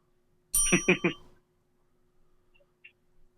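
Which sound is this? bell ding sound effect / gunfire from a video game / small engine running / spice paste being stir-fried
bell ding sound effect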